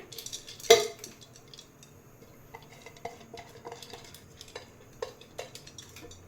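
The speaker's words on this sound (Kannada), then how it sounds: "ಮೊದಲಿಗೆ ತೊಗರಿಬೇಳೆನ ಕುಕ್ಕರ್ನಲ್ಲಿ ಹಾಕ್ತಿದ್ದೀನಿ" Dry toor dal lentils tipped into a pressure cooker for cucumber sambar, giving a sharp metallic clatter near the start followed by scattered light ticks and clinks, faint and close.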